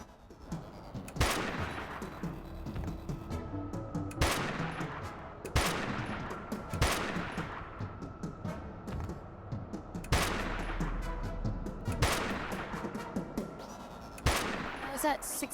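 Video game gunfire comes in several sharp bursts and single shots spread over a quiet background, fairly loud against a low hum, with no talk over them.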